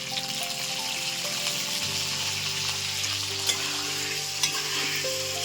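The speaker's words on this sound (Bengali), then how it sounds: "পটলগুলো ভেজে নেবো" Pointed gourd (potol) frying in hot oil over a fairly high flame, a steady close sizzle with occasional stirring scrapes and small pops, a low hum running underneath and no talk.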